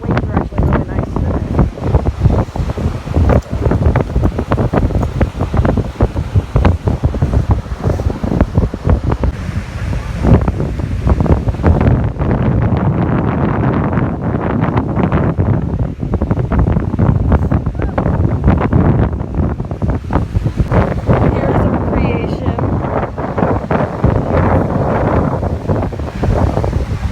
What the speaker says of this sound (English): The waves are actually really nice today.